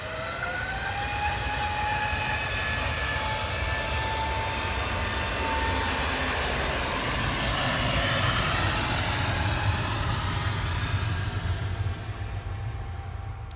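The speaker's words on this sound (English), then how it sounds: "GUZLZ departing there, A320neo." An Airbus A320neo departs Manchester Airport, its jet engines roaring steadily and loudly throughout, with a high whine sweeping across the broad rumble as the aircraft climbs away.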